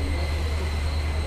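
A deep, steady rumble and wash of noise from a train arriving at a station on the Konkan route, loud and unbroken for the whole moment.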